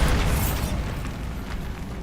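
Bombarda blasting spell from Hogwarts Legacy going off as a loud, close explosive boom with a heavy low rumble that fades over about two seconds, no talking.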